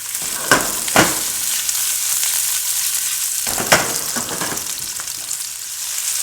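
Zucchini noodles warm in a hot pan, giving a continuous close sizzle with a few sharp scraping or tossing clacks scattered through it. No one speaks.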